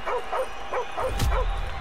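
A dog barks in Call of Duty Modern Warfare Remastered with a steady series of about six quick, close yaps in an even rhythm, with a brief thump near the end.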